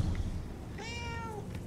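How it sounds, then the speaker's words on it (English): A cat meows once in the video game Murdered: Soul Suspect, a single rising-and-falling call lasting about half a second over a low, steady ambient game background. "Kitty!"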